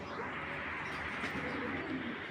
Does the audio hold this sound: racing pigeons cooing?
yes